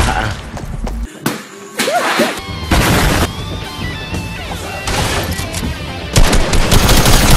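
Video game gunfire from a spammy weapon, loud bursts of rapid automatic shots with sharp cracks and brief gaps, close and dominant, with game effects and some voice mixed in.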